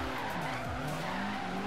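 A car drifting in the racing video game Forza Horizon 3, a steady engine drone under sustained tire squeal with a quick gear-shift dip, loud and continuous with no talk.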